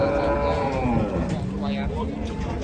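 Cattle mooing on a farm, several drawn-out, fairly loud moos following one another over steady outdoor background noise, with no talk in between.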